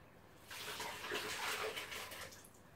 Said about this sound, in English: So I'm getting it out of its soaking bucket.